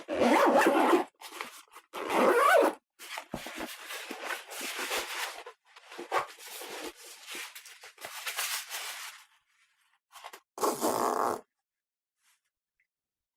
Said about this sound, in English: we're just going to zip this thing up and see how it fits